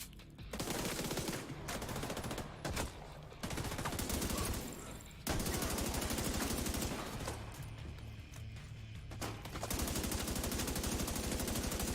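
Automatic and machine gunfire in the shooter video game The Division 2, dense sustained bursts broken by short pauses, fairly loud with game ambience and no clear talking over it.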